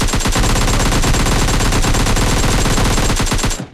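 Loud, sustained automatic gunfire from the video game PUBG Lite, with rapid rattling shots packed densely together for several seconds before cutting off abruptly.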